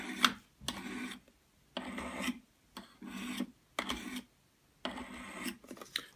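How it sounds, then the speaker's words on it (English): Rhythmic scraping strokes of a CRKT knife blade drawn across Spyderco Sharpmaker fine ceramic stones, about seven short bursts separated by brief pauses, close and fairly quiet with no voices. "continue with the finer stones and see if I can even refine the edge a little bit more"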